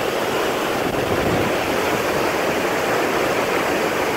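The flooded Tinau river rushes past close by in Nepal, a loud, unbroken roar of churning water that stays constant throughout.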